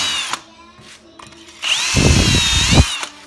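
A power drill whines as it bores through a small-block Chrysler engine block, starting in short bursts and then running continuously with a loud, grinding bite near the end.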